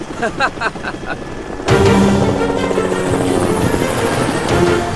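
A helicopter heading toward mountains and lake valleys starts up loudly after a short burst of chopping rotor beats, then holds a dense, close engine and rotor roar with a steady whine.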